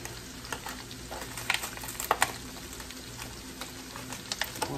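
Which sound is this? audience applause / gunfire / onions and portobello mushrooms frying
onions and portobello mushrooms frying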